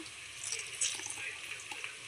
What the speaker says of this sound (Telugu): వాటర్ అంతా పిండేయాలి. ఇలా వాటర్ అంతా తీసేయాలన్నమాట.